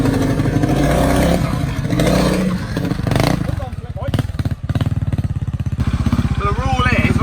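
Honda Montesa Cota RT trials motorcycle being ridden close by, its engine burbling and revving unevenly as the throttle opens and closes, with a throaty, varying note throughout.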